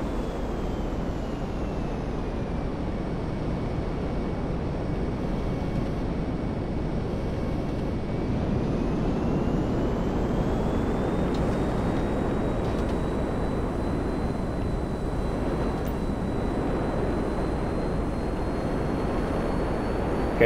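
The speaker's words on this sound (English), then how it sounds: "look at the engine on top of the plane" Steady, loud jet engine roar of the F-160 Raiju fighter plane in GTA V Online, a continuous broadband drone with a faint high whine that rises slightly partway through, heard alone without talk.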